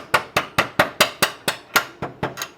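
A part is hammered through the hub assembly of a 2023 CanAm X3, giving about ten sharp, evenly spaced metallic blows in quick rhythm, loud and close, with the last few strikes slightly lighter and uneven.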